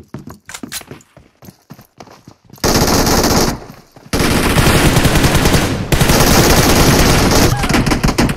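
Rapid machine gun bursts in the mobile shooter game PUBG Mobile, loud and close, starting with short spaced shots and then breaking into long continuous sustained fire.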